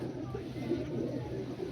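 Pure-bred Malwai pigeons coo softly nearby, low murmuring calls over a steady background hum.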